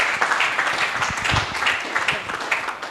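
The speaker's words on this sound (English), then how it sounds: "Please give her a round of applause." Scattered applause from an audience, moderately loud and steady for a few seconds before tapering slightly.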